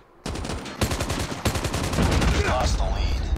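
Gunfire from Call of Duty Mobile fills the scene: a single shot, then long rapid automatic bursts that run on continuously, loud and close, with no pauses between volleys.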